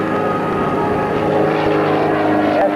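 A propeller-driven light airplane flies overhead at a 1991 Kissimmee, Florida air fair, its engine droning steadily and loudly for the whole stretch with slight swells in intensity.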